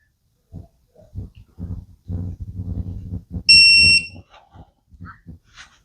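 A digital torque wrench tightening cylinder head bolts during a Fiero V6 rebuild gives one sustained electronic beep at target torque, amid scattered mechanical clicks and handling noises.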